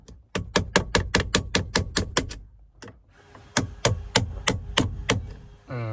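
A Snap-on screwdriver is used as a hammer, struck in quick, sharp, evenly spaced metallic blows, a fast run of about a dozen hits, a pause, then another series of loud, close taps.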